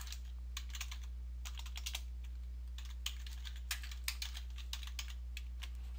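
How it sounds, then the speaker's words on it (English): Keys on a computer keyboard are typed in quick short bursts of clicks with brief gaps, close and fairly quiet over a steady low electrical hum. "I'm going to type in circuit board."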